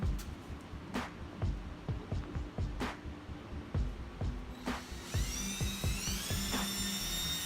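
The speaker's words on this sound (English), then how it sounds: "we are going to take and drill a few holes in the" Power drill boring holes through the metal frame of a Chevy C10 truck bench seat under its cover, with scraping and knocking clicks, then a high whining screech as the bit bites into thick metal.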